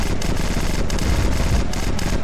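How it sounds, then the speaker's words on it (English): Sustained machine gun fire in the video game Red Crucible: Firestorm, a loud, dense, continuous rattle filling the whole short stretch without pause. "He's hitting me with a damn machine gun or something?"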